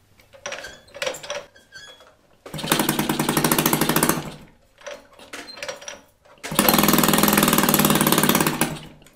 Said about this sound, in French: Donc on va la démarrer et tu vas voir qu'elle ne veut pas prendre de tour.